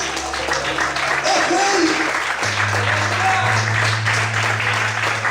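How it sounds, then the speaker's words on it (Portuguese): A church congregation applauds during a sermon, continuous crowd clapping carried over sustained music or organ tones, with a voice speaking over it. "Será que você pode aplaudir o Senhor para isso?"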